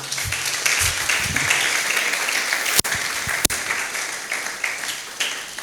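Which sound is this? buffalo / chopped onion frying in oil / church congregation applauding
church congregation applauding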